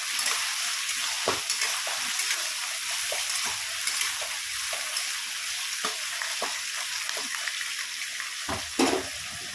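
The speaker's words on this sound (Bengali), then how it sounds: "এবার এটা নেড়ে নেবো।" Malabar spinach is stirred with fish oil in a frying pan, giving a constant loud sizzle. A utensil knocks sharply against the pan at scattered moments, and no voices are heard.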